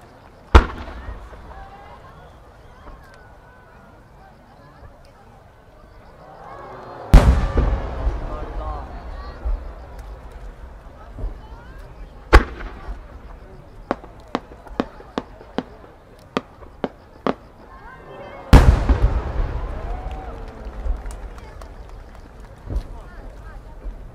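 Fireworks bursting outdoors at the 2019 Omagari national fireworks competition in Japan: a few deep booming explosions spaced apart, with a quick series of sharp crackling pops between them and lingering rumble.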